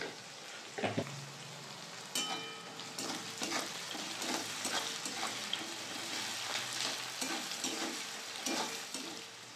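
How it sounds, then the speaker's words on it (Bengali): Onions frying with salt and a little sugar in a pan for chicken curry, with repeated scraping stirs, a steady frying crackle broken by rhythmic spatula strokes, no talking. "অল্প চিনি দিয়ে পেঁয়াজটা ভালো করে ভেজে দেবো"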